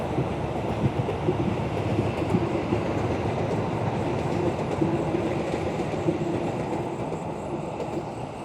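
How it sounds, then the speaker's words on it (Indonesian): A train rumbles past close by, a loud, steady roar of wheels and carriages with faint rhythmic clatter, no voices. "Kereta lewat, sedulur."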